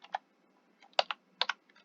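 Arduino code is typed on a computer keyboard, a short burst of crisp, close keystrokes in small irregular clusters with brief pauses between them.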